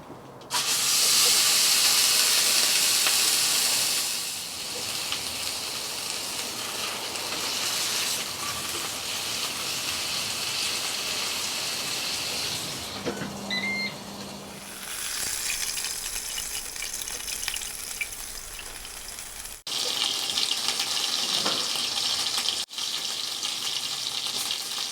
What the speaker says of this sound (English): Just going to add some veg oil to the plancha to do this reverse sear.